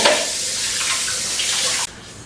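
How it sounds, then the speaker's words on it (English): Tap water rushing into and rinsing out a mixer bowl in a kitchen sink, a loud close hiss of running water that shifts as the bowl moves and then cuts off abruptly. "But I have to wash up my mixer bowl first."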